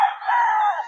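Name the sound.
rooster crowing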